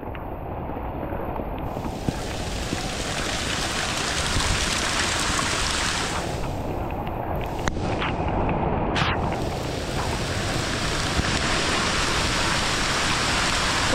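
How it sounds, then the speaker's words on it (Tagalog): Heavy rain pours steadily as a dense, loud broadband hiss with no pauses, a higher-pitched wash swelling in and fading partway through over the constant downpour. "na malakas na ulan"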